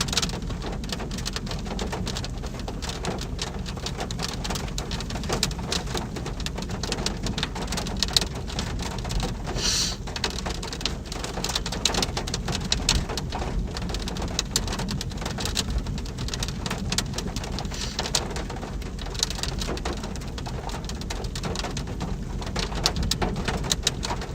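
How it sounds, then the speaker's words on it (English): Rain falling during a thunderstorm near a wall cloud in tornado country: a steady, dense hiss of drops on surfaces continues throughout, with occasional bird calls faintly in the background and no talking. "Beautiful storm."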